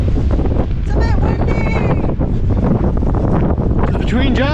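Wind gusts steadily across a lagoon in Nanaimo, a loud, constant rushing roar buffeting the microphone, with faint voices mixed underneath.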